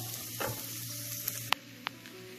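Cooked Kaima rice being stir-fried in a pan for chicken fried rice, a steady sizzle with a few sharp clicks of a spatula scraping the pan, faint and close, with no talking.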